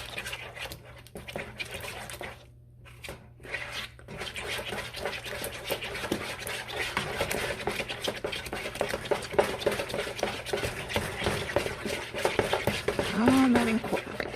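Spoon stirring thick homemade Nutella brownie batter in a bowl, a steady scraping and squishing that runs close and continuous for several seconds, with a short pause near the start.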